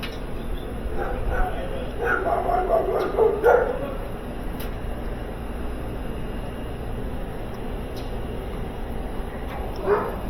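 A dog barks and yips a few times at moderate distance over a steady background hum, with short pauses between the barks.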